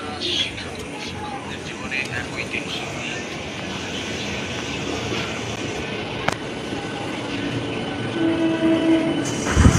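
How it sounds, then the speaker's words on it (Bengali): A Howrah–Memari EMU local train pulls into a station platform with a loud steady rumble of wheels and cars, and a horn sounds near the end. "এইবার যে ট্রেনটা ঢুকছে, টার্নিংটা দেখলেন নিশ্চয়ই, এটা হচ্ছে হাওড়া মেমারি লোকাল"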